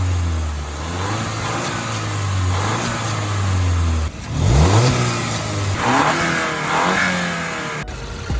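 A VW GTI engine fitted with an IS38 turbo and MST intake revs up and down loudly and close, the pitch sweeping upward with each throttle blip while the turbo spools, with no talking.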